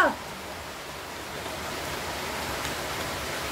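Steady broadband rain falls close by through a lunchtime scene, a continuous even hiss from start to finish with a brief sharper patter right at the opening.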